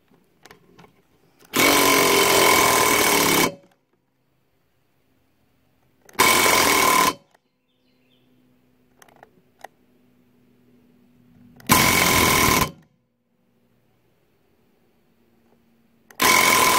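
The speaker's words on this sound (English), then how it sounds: "I don't know if my impact, I hadn't charged it in a while, so that's why it keeps on cutting off" Cordless impact wrench with a low battery hammering on cylinder head studs in Vortec 350 heads, three loud rattling bursts of one to two seconds with near-silent gaps, then a fourth starting at the end.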